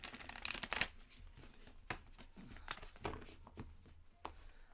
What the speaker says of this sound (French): Allons sortir un petit 5 cartes maintenant.